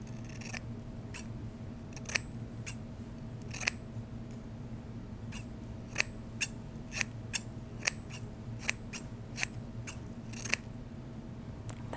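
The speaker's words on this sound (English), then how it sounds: "let's see how it cuts hair" Freshly sharpened scissors snipping hair up close, a dozen or so crisp, quiet clicks at an uneven pace over a steady low hum, with no talking.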